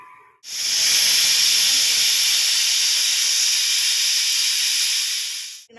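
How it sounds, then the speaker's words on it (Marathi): A pressure cooker of dal on a low gas flame lets out one long, loud, steady hissing steam whistle lasting about five seconds before it cuts off. "आतां आमी कुकर लावया आनी बारीक गॅस दवरून एक शिटी काडया।"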